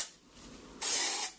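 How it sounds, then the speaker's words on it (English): A short, close hiss of aerosol hair spray being sprayed onto parted hair, a steady burst of about half a second after a quiet lead-in. "And spray it where you've parted your hair."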